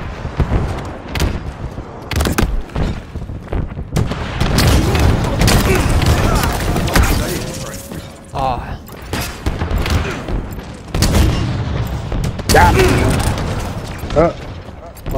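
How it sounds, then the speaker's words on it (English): In Halo's Oasis map during a big-team slayer match, heavy rocket blasts and booming gunfire erupt repeatedly at close range, with loud bursts coming one after another and voices talking over the chaos. "Damn, rockets everywhere."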